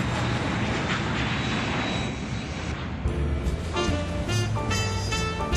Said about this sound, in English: looked up to see the airplane roll down the runway and take off